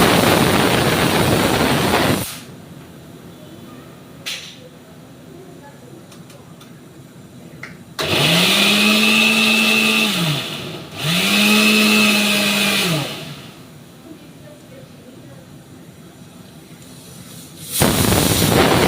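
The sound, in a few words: mixer grinder blending jackfruit seeds into paste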